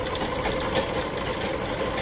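Singer sewing machine bought in 1996, running close up with a fast, even mechanical chatter and rapid needle rhythm for a couple of seconds.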